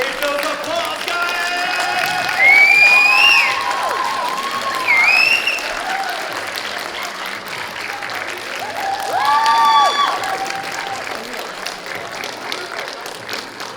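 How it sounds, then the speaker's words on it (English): Audience applause at an anime convention cosplay contest in Oklahoma: steady clapping from a crowd throughout, with a few whistles and cheers swelling briefly. "Give those applause, guys!"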